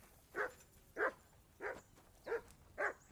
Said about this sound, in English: we're checking on our dog first.